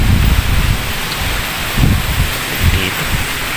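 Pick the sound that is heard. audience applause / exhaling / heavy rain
heavy rain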